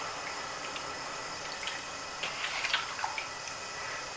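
Mutton liver being washed in water, with a faint, steady trickle and light sloshing splashes throughout and no voices.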